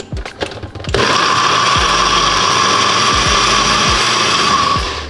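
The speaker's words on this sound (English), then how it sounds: "Throw this guy in the blender." A blender motor whirs loudly and steadily for several seconds after a few knocks and clunks, with chunks rattling against the jar before it spins down.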